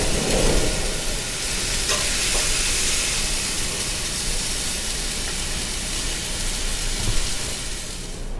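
A T-bone steak sizzles steadily on a grill while its second side cooks briefly so the inside stays slightly rare: a continuous close, bright hiss with no talk.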